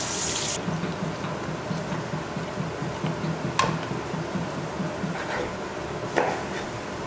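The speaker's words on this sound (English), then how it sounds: "And then I top that off with some water" Water poured into a blender already holding chopped ingredients with ginger and lemon, a steady splashing trickle with a few sharp knocks, close and alone with no talk.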